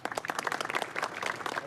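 Brisk, close applause from people lining a corridor to honor a passing man, a dense run of sharp claps across the short stretch.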